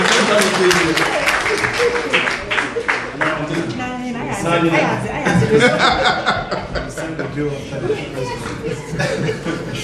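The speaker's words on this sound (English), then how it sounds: "Can we clap for her, please?" Audience applause for a sponsor announcement at a football tournament launch, lively clapping mixed with chuckles and laughter, with voices talking over it for much of the time.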